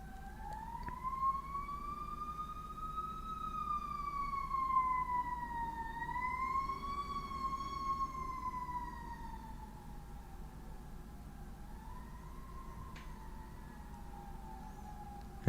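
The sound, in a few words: sirens of passing emergency vehicles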